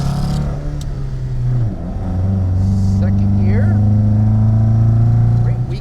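A 1976 Jensen GT is driven hard through a series of bends, its engine droning steadily and rising in pitch as it accelerates through the gears. Someone talks over the engine throughout.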